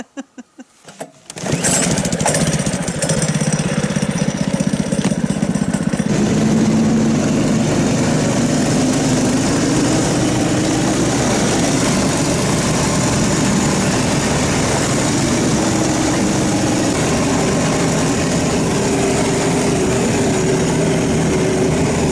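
A vehicle engine drones steadily while driving along a road in December, starting after a brief quieter moment and then holding a loud, continuous, rumbling hum with no talk over it.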